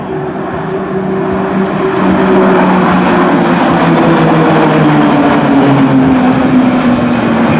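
PZL-130 Orlik turboprop trainers flying in close aerobatic formation at a military air show, a steady loud propeller drone with slowly shifting engine tones throughout.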